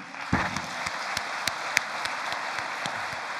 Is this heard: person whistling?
no